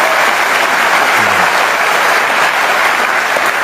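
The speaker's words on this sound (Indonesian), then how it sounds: "Kasih tepuk tangan dong, Cak Lontong." A studio audience claps loudly for the Indonesian comedian Cak Lontong, a full, continuous burst of applause that stays level from start to finish without any talking.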